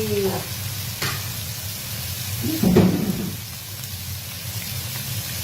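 Cabbage stir-frying in a pan sizzles steadily, with a few sharp spatula scrapes and clatters and a louder burst of frying partway through.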